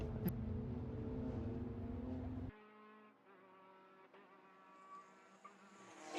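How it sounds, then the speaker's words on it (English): Race car engine misfiring as it runs down the front straight toward turn 1 at Sebring during a WRL endurance race, heard at a distance as a buzzing, stuttering drone that drops abruptly partway through and continues thinner. "There's a car missing, like misfiring down the front straight to turn 1."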